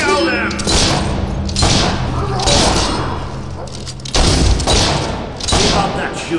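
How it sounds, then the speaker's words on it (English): Rapid gunfire shooting at enemies in a video game, dense repeated bursts and booming thuds running loud and continuous throughout, with voices mixed in. "Keep up that shooting and we'll be rid of them in no time."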